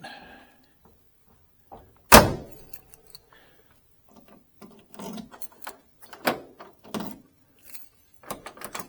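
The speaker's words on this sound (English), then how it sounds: "the doors just snap shut, nice and tight" One sharp, loud slam of a 1969 Chevelle SS 396 door shutting tight, followed by softer thuds and clicks from further door handling, with no voices.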